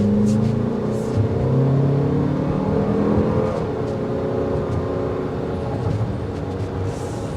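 A 2024 Toyota Grand Highlander SUV driving through a tight turn-radius test, with a steady, smooth engine drone and road hum heard close and continuous from start to finish.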